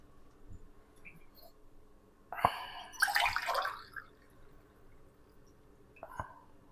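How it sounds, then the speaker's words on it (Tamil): Hot water splashes and gurgles onto rice for prawn biryani in a brief pour lasting about a second, with a few soft clicks and drips around it, close by. "2 டம்ளர் தண்ணி ஊற்ற போகிறேன்,"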